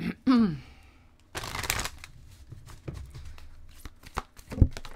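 A deck of oracle cards is riffled and shuffled up close: a sharp flurry of papery flicks, a pause, then soft handling taps and card draws, with a faint throat clear at the start.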